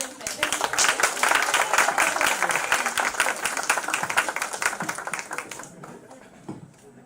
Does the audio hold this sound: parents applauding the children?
yes